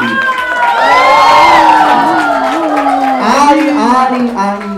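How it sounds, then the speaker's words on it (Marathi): An audience at a TV serial launch event cheers and whoops loudly for the director, a dense continuous crowd roar with shouting voices that swells and then eases slightly. "जोरदार टाळ्या वाजवूया चंद्रकांत गायकवाड यांच्यासाठी"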